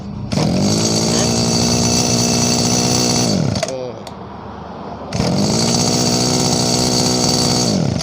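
A small two-stroke Robin brush cutter engine runs steadily at high revs, briefly dropping to a rough idle before revving back up loud and close.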